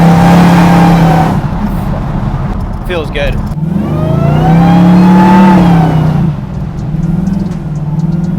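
Hellcat-swapped Plymouth Cuda pro-touring build with a supercharged V8, revving loudly up and down with a rising and falling supercharger whine over the engine roar, while someone talks in the middle.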